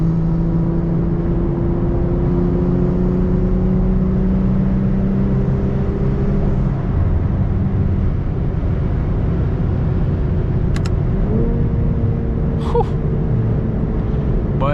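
A BMW M340i with a catless downpipe pulls hard from inside the cabin, its engine droning and climbing in pitch, then dropping sharply at a gear shift before rising again.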